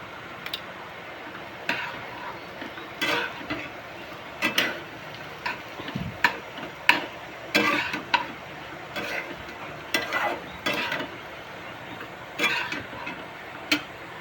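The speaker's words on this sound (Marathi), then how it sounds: "चांगली बटाट्याची भाजी परतून घेतली" Spiced potato bhaji with turmeric and coriander powder is sautéed in a pan, a low sizzle under repeated clacking spatula strokes in uneven bursts, up close with no voices.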